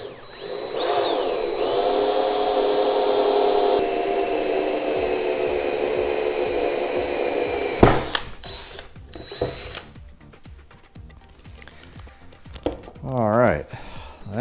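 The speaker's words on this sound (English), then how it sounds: "drill it as straight as we can" A power drill bores straight through wood on a push car, a sustained close whine that runs for several seconds before stopping, followed by clatter and handling noises, with a person talking nearby.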